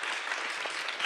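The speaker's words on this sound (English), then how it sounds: "I hope you'll join me in giving her a huge round of applause" A brief, steady burst of audience applause at a talk on online extremism, dense and even, with no speech over it.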